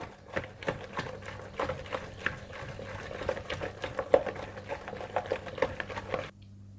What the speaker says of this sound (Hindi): और इसे अच्छी तरह से इस तरह से मिक्स करते जाएं।